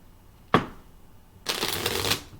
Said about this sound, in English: I'm going to give you a good shuffle.